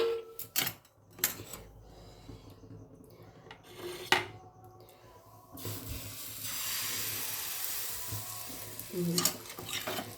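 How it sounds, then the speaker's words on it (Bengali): Oil poured onto a hot tawa griddle starts a bright, rising sizzle that fills the second half. Before it come a few clanks and scrapes of utensils against the metal. "এরকম চাটুতে আমি তেল দিয়ে দিলাম"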